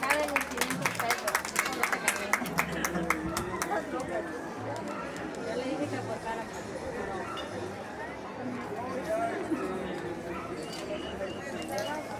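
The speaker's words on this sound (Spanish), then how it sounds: "Fuerte los aplausos, ya tenemos una de las finalistas." Applause and cheering from an outdoor crowd at a village pot race in the Huasteca, El Arenal, Yahualica, greeting a finalist; steady dense crowd noise with scattered claps and chatter, and voices over it throughout.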